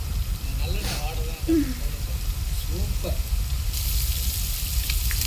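Snakehead murrel fish fries in a pan at an outdoor village cook-up with a constant loud sizzle and crackle. Scattered voices exclaim over it.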